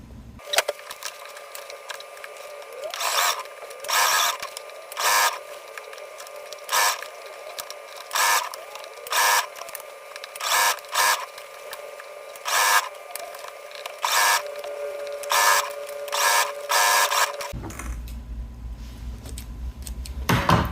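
A sewing machine stitches a witch hat brim in repeated short bursts of fast mechanical whirring, with brief pauses between runs, close and fairly loud, ending in a shift to handling noise.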